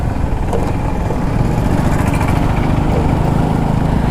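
Motorcycle engine on an open highway ride between Madhubani and Sakri, a loud continuous buzzing drone with wind roar, steady and close throughout with no speech.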